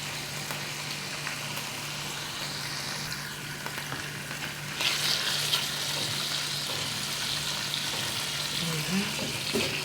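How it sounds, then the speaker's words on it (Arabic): Lamb meat for jwaz lamb tajine frying in a pan, a steady broadband sizzle running throughout that grows a little louder and brighter midway, with faint background hum. "انا هنايا نخليه يتقلى شويه باش ينقلي هذيك البنه تاع القليه نتاع اللحم جواز"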